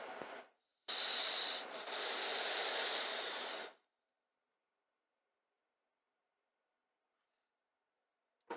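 Vaping on a Neptune V2 tank with 0.25 ohm stainless steel Clapton coils: close, loud, hissing airflow and crackle for about three seconds after a short puff, then near silence.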